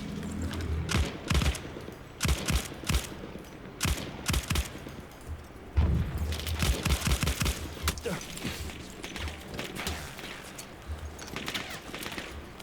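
Gunfire in the first-person shooter Battlefield 1, with bursts of rifle and machine-gun shots cracking out in clusters, some near and loud, others more distant, while a player talks now and then.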